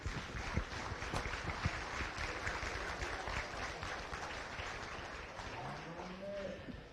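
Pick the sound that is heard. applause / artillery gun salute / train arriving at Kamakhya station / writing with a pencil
applause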